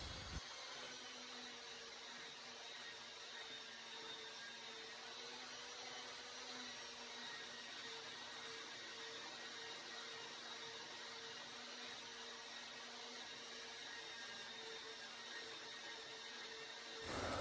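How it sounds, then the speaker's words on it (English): A belt sander runs continuously over a wooden farm gate frame, a steady whirring drone with a sustained high whine, held at an even level throughout with no talking. "just lightly go over it with the sander to get it all nice and flat"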